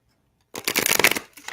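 A deck of tarot cards being shuffled, a quick close riffling flutter that starts abruptly after silence and runs for about a second.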